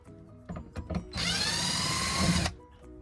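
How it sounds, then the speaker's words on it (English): A power drill unscrews screws from a bed frame in a steady whirring burst of about a second and a half, close and loud, framed by brief handling knocks. "we're gonna unscrew these two screws"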